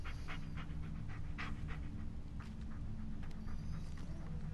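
A dog pants rapidly and rhythmically in the Blair Witch video game, close and steady over a low engine-like rumble, with no talk.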